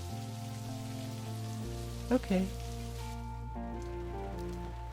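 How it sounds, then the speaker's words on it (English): Rain falls steadily in the video game Necrobarista, a soft constant patter under sustained tonal music, with a brief spoken word in the middle. "Just try and enjoy the rain."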